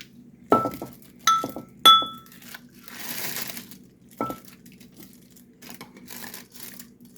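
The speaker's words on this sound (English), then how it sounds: "I'm going to use the slotted spoon to make sure I get some beans" A metal slotted spoon clinks sharply against a bowl while scooping ham hock and bean soup, several distinct ringing taps with soft wet scraping and sloshing between them.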